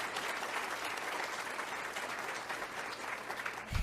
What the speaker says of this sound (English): give everyone who serves on the front lines a big round of applause.